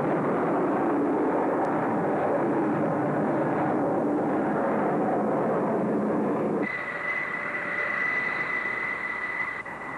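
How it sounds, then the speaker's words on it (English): A jet aircraft launched from a carrier's steam-powered catapult, a loud roaring rush that holds steady and then gives way to a higher whining engine tone. "Launched from a steam-powered catapult that induces an acceleration loading better than 5 times the force of gravity, and yanked off the deck in a couple of 100 feet"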